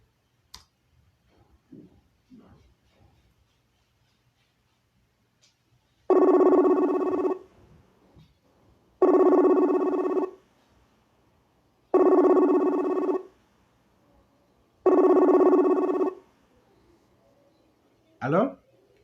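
Ringback tone of an outgoing phone call: four evenly spaced long ring tones, each lasting over a second with about three-second gaps, preceded by faint scattered background sounds and followed by a brief voice.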